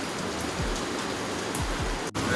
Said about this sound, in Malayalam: കറക്റ്റ് 3 മണിയായപ്പോഴേക്കും മഴ പെയ്ത്.